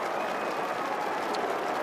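A crowd of Adelaide Crows fans at an Australian football match cheering and applauding a goal, a dense, steady roar of clapping and voices filling the whole moment.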